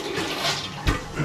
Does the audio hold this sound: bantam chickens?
no